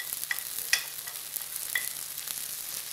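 Ground spice powders are tipped into a frying masala for a drumstick-stalk bora curry, with a soft, continuous sizzle underneath and several sharp spoon scrapes and taps against the pan as it is stirred, close and fairly quiet, without speech.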